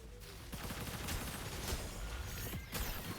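Dense gunfire rattles in the Paladins shooter game, with rapid overlapping shots and a few sharper cracks forming a loud, continuous barrage with no voices.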